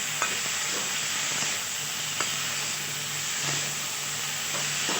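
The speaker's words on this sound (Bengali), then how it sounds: "আলু ফুলকপি টমেটো একটু নুন দিলাম পরিমাণ মতো এবার এগুলো একটু ভেজে নেব কড়াই" Potato, cauliflower and tomato with a pinch of salt fry in a wok (kadai), a steady close sizzle broken by a few light stirring scrapes and clinks.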